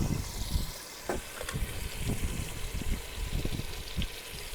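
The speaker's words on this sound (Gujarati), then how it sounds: "એમાંથી ખારું પાણી કાઢી નાખ્યું" Water gushing and splashing as salty water is drained out of a cooking pot on a boat, with uneven surges and a few knocks.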